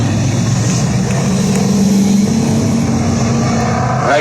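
Race cars idling and rumbling on warm-up laps at Agassiz Raceway, drivers weaving to heat their tires; a steady low engine drone fills the whole stretch with a rising tone midway.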